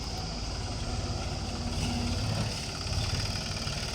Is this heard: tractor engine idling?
yes